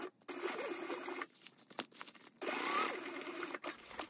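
A sewing machine runs in two steady bursts while top stitching a handbag, its close, buzzing whir pausing briefly in between.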